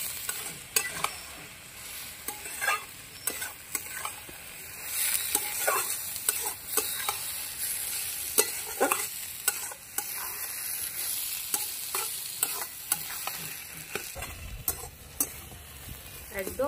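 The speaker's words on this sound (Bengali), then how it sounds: "ভালো করে নেড়ে দেবো।" Fried prawns stirred into an ash gourd curry in a pan, giving a steady sizzle broken by repeated scraping stirs that sound close and fairly loud, with no talking.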